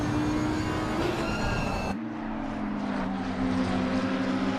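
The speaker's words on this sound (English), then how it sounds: "Such a beautiful sound to hear, the screaming V10s of the Audis." Loud, continuous V10 engine roar with a high-pitched whine from Audi GT race cars at Monza, one car's sound cutting off abruptly and another carrying on as they pass close by.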